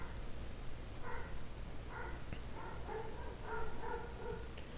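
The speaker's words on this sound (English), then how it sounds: "Sorry guys if you can hear my dog in the background barking." A dog barks repeatedly in the distance, faint and muffled beneath a steady background hum.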